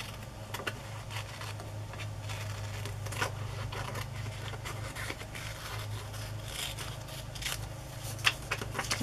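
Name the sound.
cutting paper collage pieces apart with scissors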